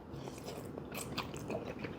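Crunchy fried garlic in a bowl of ramen being bitten and chewed up close, a few crisp crunches over a soft, steady background with no talk.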